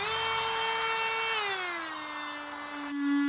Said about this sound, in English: We are using the Dremel Micro with the Dremel 106 burr.